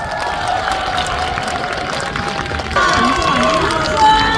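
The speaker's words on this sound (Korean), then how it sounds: "박수 많이 주세요." Outdoor festival crowd at the Songnisan Festival applauding and cheering for a trot singer's performance, a steady wash of clapping with music tones running underneath throughout.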